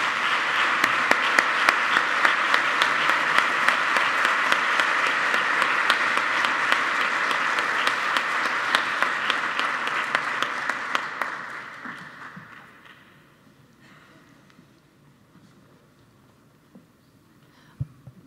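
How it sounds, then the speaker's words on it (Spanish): An audience applauds Dorothy Kelly at the 30th anniversary ceremony of the Erasmus Programme. Dense, loud clapping fills the hall for about twelve seconds, then fades into a quiet room with a few scattered claps. "Un aplauso muy fuerte, por favor, para ella"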